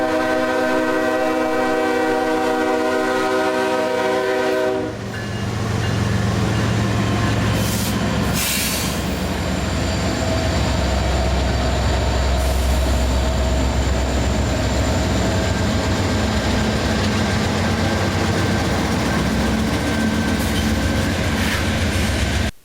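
A freight train led by Savannah and Atlanta heritage unit locomotive number 1065 sounds a long multi-tone horn, then rumbles past close by. Wheels clatter rhythmically over the rails under a steady roar, with brief squeals and screeches.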